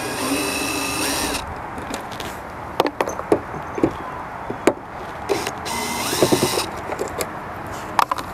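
A power drill works on a boat's deck winch hardware, whirring steadily for over a second, then stopping; it is followed by scattered metallic knocks and clanks, a second short burst of drilling, and more taps nearby.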